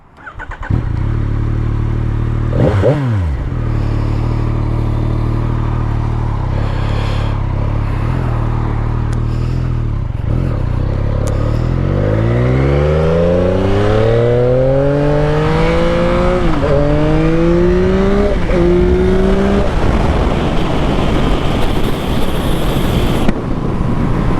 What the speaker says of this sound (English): Let the bike warm up a little bit, warm up the tires.